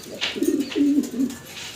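A red spangled German Shield pigeon cooing nearby in a breeding loft, giving a short burst of low, throaty coos in quick succession, heard alone with no talk.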